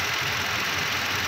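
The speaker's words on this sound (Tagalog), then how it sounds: "pinandar ko yung makina na nakahiwalay yung transmission para masure ko po mismo" A 2015 Toyota Fortuner engine idling with its transmission removed, producing a steady, even mechanical hum and fine rattle, close and continuous with no talking.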